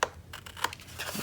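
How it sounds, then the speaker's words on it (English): Scissors snipping the small corners out of a paper envelope pocket, a few quick, close crisp cuts and rustles in just over a second, with no voices. "Now you're going to cut the little corners out of the"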